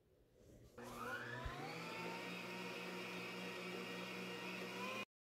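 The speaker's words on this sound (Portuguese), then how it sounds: "Agora eu vou trocar de batedor e vou deixar batendo por aproximadamente 10 minutos." An electric stand mixer beats chocolate ice cream mixture made with gelatin, its motor whirring up to a steady, rising high-pitched drone that runs close and alone for several seconds before stopping abruptly.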